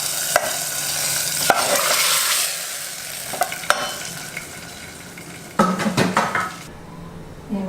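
Tempering of curry leaves and asafoetida poured into a pan, loud bright sizzling with stirring and several sharp clinks of a metal pot and utensil, no one speaking.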